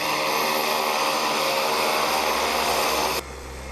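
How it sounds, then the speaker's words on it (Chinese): An orange-painted T-34 propeller primary trainer aircraft drones steadily with a loud, even engine and propeller roar, close by, before the sound drops sharply near the end. "橘色涂装可爱的螺旋桨，这是国内的初级教练机 T34"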